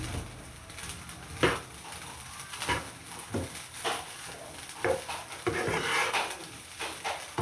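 A utensil stirs chicken fried rice in a pan with repeated scraping and clinking strokes at a moderate pace, under a faint background sizzle.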